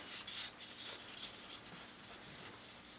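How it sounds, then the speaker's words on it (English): Cloth rubs cosmoline off a rifle barrel in quick back-and-forth strokes, a soft, faint, close scrubbing hiss with no voices. "rub it up and down, it just starts melting it"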